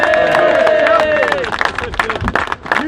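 A crowd at an outdoor protest demonstration claps and cheers loudly, dense applause that thins into scattered claps and murmuring voices toward the end.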